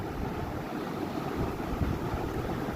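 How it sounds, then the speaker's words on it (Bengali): Sliced onions frying in oil until crisp and browned for a home-style biryani, a steady dense sizzle and crackle that runs without a break, with no voices. "এদিকে দেখো পেঁয়াজ বেরেস্তাটা হচ্ছে"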